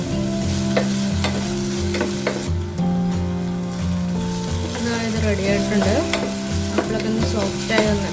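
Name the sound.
stirring apple with sugar cooking in pan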